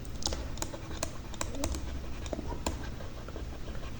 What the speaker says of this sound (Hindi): टाइपिंग की जो साउंड आ रही होती है लैब में,